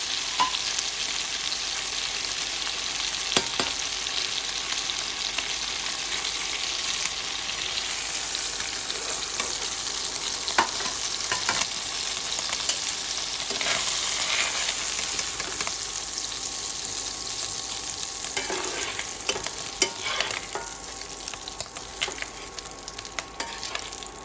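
Bata fish frying in hot oil in a pan gives a steady, dense sizzle throughout, with occasional sharp clicks and pops from stirring and spattering.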